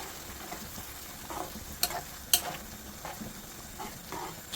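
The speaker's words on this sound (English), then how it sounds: "We're going to add the cream. And this is really a game changer. I'll leave the camera roll while I mix this in." Cream is stirred into black dhal in a pot, a soft steady bubbling simmer with quiet scraping of a spoon and a couple of sharp clicks against the pan, close and alone without talk.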